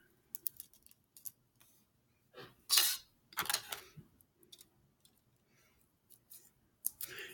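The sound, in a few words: scissors snipping cassette tape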